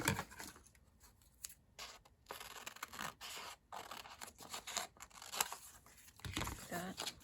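Scissors snipping through paper while a junk journal page is made, irregular close cuts and rustling paper handling with pauses between strokes, and a voice speaking now and then.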